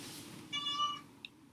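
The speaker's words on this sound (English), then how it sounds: "There's my cat." A house cat gives a single drawn-out meow in a quiet indoor room, moderately faint and heard on its own, followed by a short soft chirp.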